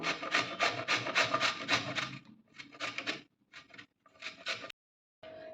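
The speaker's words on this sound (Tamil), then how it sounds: "இதை கேரட் துருவுறதுல சீவிக்கலாம் இந்த மாதிரி சீவணும்" Raw mango being grated on a carrot grater, a fast rhythmic scraping rasp in quick strokes, steady at first, then coming in shorter broken bursts with pauses, close and fairly loud with no talking.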